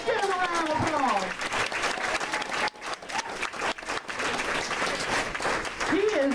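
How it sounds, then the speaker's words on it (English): A church congregation at a pastor's 90th birthday celebration gives a sustained round of applause, steady dense clapping with crowd voices and a speaker's voice rising over it at the start and end. "Let's give him a round of applause."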